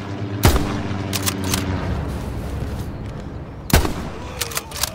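Heavy gunfire in a World War II shooter game, loud sharp reports at the start and again near the end over a constant battle rumble, the later shots clustering into a rapid burst like an MG42 machine gun.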